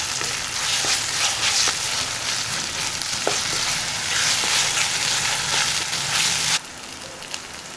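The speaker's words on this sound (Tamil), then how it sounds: "இஞ்சி பூண்டு போட்டு நல்லா கொஞ்சம் வதக்கணும்." Ginger and garlic sizzle and fry steadily in a hot pan for a hotel-style Tamil white veg kurma, with occasional stirring clicks, loud and close until the sizzle drops quieter near the end.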